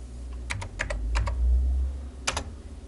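Quick keystrokes on a computer keyboard as a word is typed into tutorial software, a short burst of several clicks followed by a pause and two final taps, close and clear with no talking.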